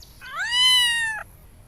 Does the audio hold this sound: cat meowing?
yes